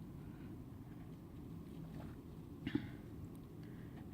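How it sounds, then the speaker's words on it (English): Strong wind roars steadily during a Colorado blizzard, a continuous low rumbling buffet with a brief gust or knock near the end, no voices. "And the wind velocity is really high."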